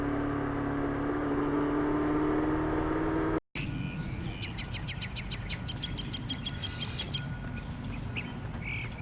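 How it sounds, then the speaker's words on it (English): Wild birds sing in a rapid series of bright chirps and trills along a country road near Lake Denmark, following steady motorcycle wind noise and a short dropout, with a constant low rumble underneath. "Well, listen to those wild birds."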